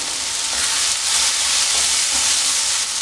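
Soya chunks roast in a pan with curry leaves, giving a steady, close sizzle and hiss that carries on evenly with no voices.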